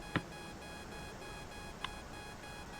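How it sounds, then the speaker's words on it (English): Two brief electronic aircraft warning beeps sound about a second and a half apart over a steady hum with a high continuous tone, in the video game Trailmakers. "now you can hear the beeping really well"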